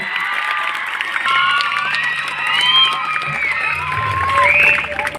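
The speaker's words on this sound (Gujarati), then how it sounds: "એને પણ આપણે તાળીઓના ગણગડાથી વધાવીએ" A crowd at a village honouring ceremony for Kesurbhai applauds and cheers, with continuous clapping, whoops and excited shouts filling the whole stretch, loud and close, swelling toward the end.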